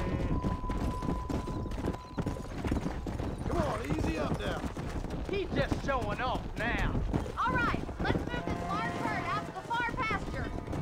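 Rhythmic clip-clop of horse hooves trotting steadily throughout in Red Dead Redemption, with an occasional whinny and a busy game soundtrack layered underneath.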